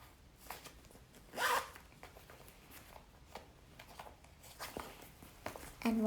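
The zipper on a small Chanel bag is pulled open in one quick, bright rasp, and faint handling rustles and soft clicks follow in a quiet room.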